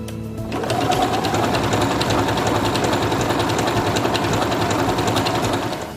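A Singer Quantum Stylist 9960 sewing machine runs steadily as it stitches out a mirrored stitch pattern: a fast, even mechanical whirr with a rapid needle rhythm. It starts after about half a second and holds at constant speed, close up, with no talking.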